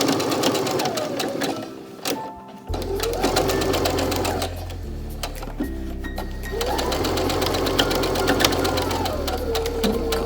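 A sewing machine runs close by, stitching a fabric face mask in loud rapid bursts with brief pauses between runs of stitches.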